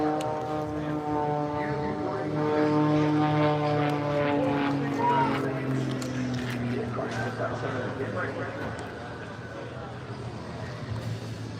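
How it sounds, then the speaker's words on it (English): Propeller airplanes drone overhead at an air show during a V8 Supercars race day at Bathurst, a loud sustained engine hum that swells and slowly fades, with people talking nearby. "Is that planes?"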